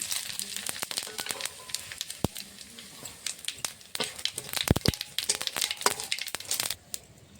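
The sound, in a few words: bay leaf, dried chilli and cumin sizzling in hot oil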